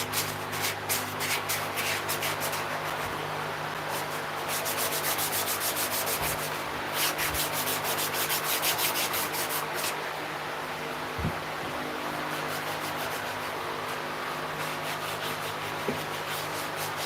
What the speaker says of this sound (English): I just got to hand sand all the edge now and get that going.